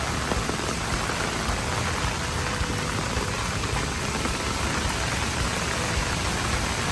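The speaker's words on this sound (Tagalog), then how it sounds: "Ito naman ang ulan." Steady, dense rain falls continuously during a typhoon in Taiwan, a broad hiss of drops hitting surfaces without pauses or voices.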